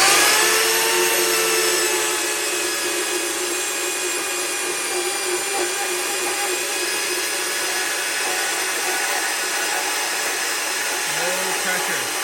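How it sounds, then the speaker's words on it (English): A small Chinese bandsaw cuts steel tube for a Toyota Hilux tube bumper, giving a loud, constant whining drone that holds evenly for the whole stretch and runs alone, close by. "Check out this little Chinese bandsaw."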